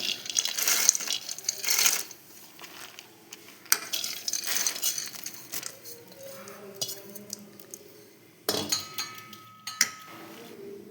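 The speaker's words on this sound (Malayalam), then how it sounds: "ഇനി ആ ബെല്ലത്തിലേക്ക് ഈ കടല ഇട്ട് കൊടുക്കാം" Roasted peanuts tipped into melted jaggery in a pan for kadala mittayi, producing scattered clinks, rattles and scraping against the metal, close up, with a few bursts and quieter stretches between.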